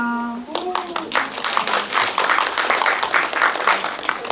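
Applause from an audience at a film screening of the Korean film Cabriolet, many hands clapping in a dense, steady patter that swells in after a brief tonal lead-in and continues loud throughout.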